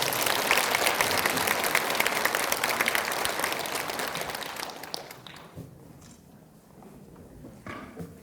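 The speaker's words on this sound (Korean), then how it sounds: "큰 박수로 맞이해 주시기 바랍니다" An audience at an academic memorial conference claps loudly and continuously, dense applause that gradually fades out over several seconds, leaving a few scattered claps and room noise at the end.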